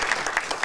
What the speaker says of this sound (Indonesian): Kasih tepuk tangan buat Yesus